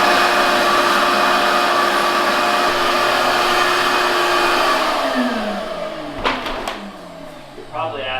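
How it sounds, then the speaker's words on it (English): A vacuum cleaner powered by a small solar generator runs with a loud, steady motor whine, then winds down and drops in pitch near the end, followed by a few brief clicks and knocks. "I wonder if that little solar generator will run this vacuum."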